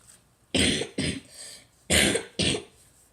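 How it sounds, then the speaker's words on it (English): Two pairs of sharp, close coughs, each pair quick and paired, separated by a short pause, with no talking. "now that I coughed, I can show you the difference."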